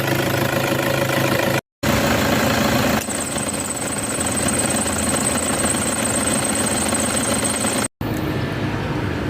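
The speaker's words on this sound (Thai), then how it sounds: "สตาร์ทเครื่อง" An engine is started and settles into a steady idle, a loud constant mechanical drone with a thin high whine, briefly cut by two short gaps, no voices.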